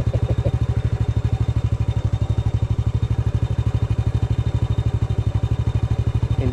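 A dirt bike engine runs close by with a fast, steady thumping putter, loud and even throughout.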